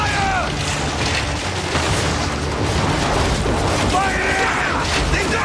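Ship weapons fire during a naval battle in Assassin's Creed, a loud, steady barrage of booms and rumbling blasts with mechanical clatter, and brief voice-like cries at the start and near the end.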